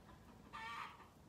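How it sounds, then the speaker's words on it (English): A hen gives a brief, fairly faint cluck of the egg-laying song in a backyard chicken flock, one short burst standing out from quiet surroundings. "One over here is doing the egg laying song."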